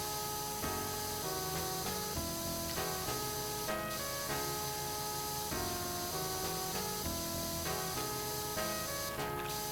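Steady pressure washer spray inside the PowerWash Simulator video game, a continuous loud hiss running throughout with music-like tonal layers and brief bursts of changing pitch, no talking.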